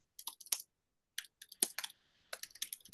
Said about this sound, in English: I'm hearing some keyboard clicking in the back.